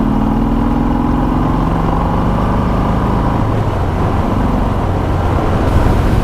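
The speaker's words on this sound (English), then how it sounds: "yeah, you do get a little bit of a rumble" A Harley-Davidson M8 Sport Glide is shifted down and its throttle opened, the engine note sliding and swelling into a loud, close exhaust rumble that keeps going steadily, with no talking.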